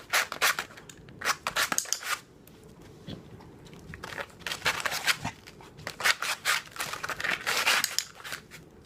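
A dog rakes its nails across a sandpaper scratchboard in bursts of rough, rapid scratching strokes, loud and close, separated by short pauses.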